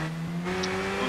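Ferrari race car in the racing video game Project Gotham Racing 4, its engine holding a steady droning pitch with a brief high squeal midway, continuous and fairly loud with no talk.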